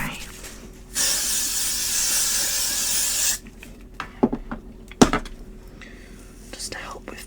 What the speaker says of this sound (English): I'm just going to use a little bit of hairspray.